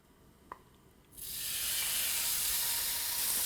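Marinated beef and mushrooms hit a hot pan for japchae, bursting into a loud, continuous steamy hiss after a brief quiet tap, close and alone.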